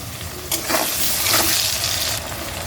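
Garlic and chopped tomato frying in a pan, giving a steady close sizzle that swells with a few stirring bursts over a few seconds, with no voices.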